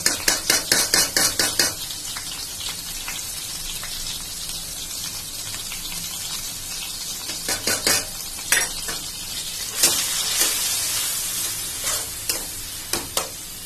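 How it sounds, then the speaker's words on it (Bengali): Spice paste with turmeric and chili powder sizzles as it fries in a pan, with a spatula scraping and stirring in rhythmic bursts, loudest at the start and near the end, under a steady close crackle. "মশলাটা কষাই"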